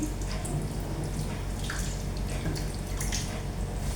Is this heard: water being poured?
yes